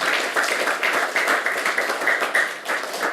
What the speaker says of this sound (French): Applaudissons pour glorifier notre Seigneur.